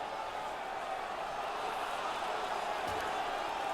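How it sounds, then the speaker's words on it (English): A hockey arena crowd at a 1976 Kansas City Scouts versus Philadelphia Flyers game roars on its feet, a dense, continuous cheer washing over the rink at steady volume. "The crowd is on their feet, and they're trying to give their teams a little spark."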